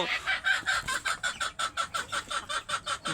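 Free-range chickens cluck in a steady, rhythmic run of short, evenly spaced calls at moderate volume, about a dozen pulses in quick succession.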